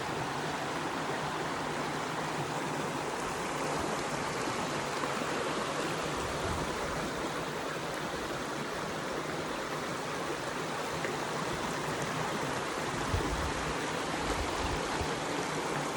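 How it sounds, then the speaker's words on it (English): A flowing creek, a steady, even rush and trickle of water that holds at a constant level throughout, with no voices. "Just go to that creek. Sit near that creek. Hear that creek."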